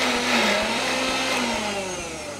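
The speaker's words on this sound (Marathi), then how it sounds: "तर पुन्हा हे मिक्सरमध्ये बारीक।" A kitchen mixer grinder whirs at full speed, grinding moong dal chutney with a little sugar and salt added. The loud, steady motor whine runs throughout with small pulses and no talk.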